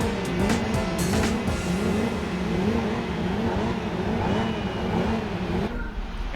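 Race cars roaring around a track in Gran Turismo 4, a steady loud engine drone with wavering pitch as gears and revs rise and fall, faint tire squeal at moments, no talking.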